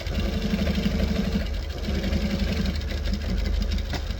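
A sewing machine stitches an accent piece onto a bag, its steady, fast mechanical chatter running close and continuous throughout.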